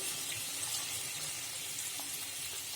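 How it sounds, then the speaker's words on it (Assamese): Hot water is poured into a kerahi (wok) holding a small-fish and banana pachala dish, heard as a faint, steady hissing splash with a light sizzle. "ইয়াত মই অলপ আৰু গৰম পানী দি দিম,"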